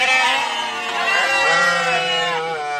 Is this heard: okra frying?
no